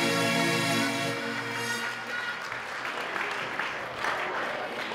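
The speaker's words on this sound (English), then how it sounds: "Let's give them all a round of applause" Wedding guests clap together at a reception, a dense burst of applause that tapers after the first seconds, with background music notes fading beneath at the start.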